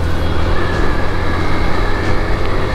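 A Yamaha FZ V2 motorcycle fitted with a quick throttle revs hard as the throttle is pulled, giving a dense, loud, close engine roar that holds steady across the moment.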